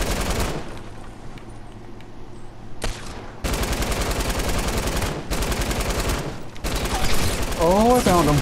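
Bursts of rapid automatic gunfire in a video game come in several loud volleys separated by brief pauses.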